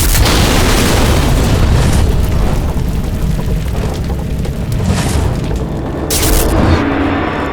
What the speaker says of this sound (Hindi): एक जोर का धमाका हुआ।